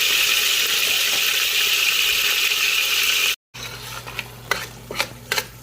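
Ground beef sizzles steadily in a hot pan, a loud close frying hiss, then after a brief cut comes quieter sizzling with a few scraping stirs and utensil clinks against the pan.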